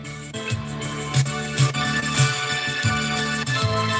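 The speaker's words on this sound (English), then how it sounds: "That's a Yamaha DX7." A bright electric-piano style Yamaha DX7 synthesizer keyboard line plays a repeating melodic phrase with bell-like tones and steady accompaniment, clear and prominent with no talking.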